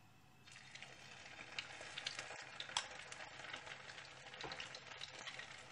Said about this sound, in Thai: เอาแค่พอมีน้ำมันให้มัน ได้ทอดไข่นะคะ ทอดให้ไข่สุกนะคะ